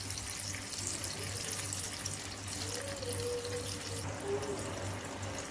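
Water pours steadily into a cooking pot for mandi rice, a continuous soft splashing rush in a home kitchen with no voices.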